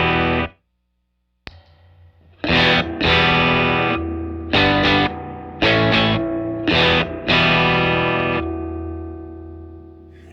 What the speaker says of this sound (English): Now, can you get a standard unaffected reverb sound with the Endless Summer?